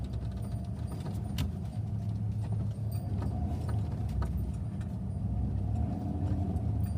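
A van reverses uphill on a sketchy, bumpy dirt road, its engine droning steadily while scattered rattles and clunks from the bumps cut through, with no talking.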